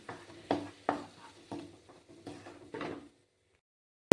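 A thick cashew and melon seed paste is sautéed with spices in a pan for papaya kofta curry. A spatula scrapes and stirs in about seven separate, close strokes over a soft sizzle, then quiet, with no talking.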